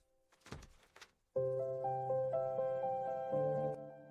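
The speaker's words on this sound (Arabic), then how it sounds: "الباب بيعمل صوت غريب." An old door in an abandoned house, a couple of dull knocks or clunks followed by a long, loud, tonal creak as it swings open.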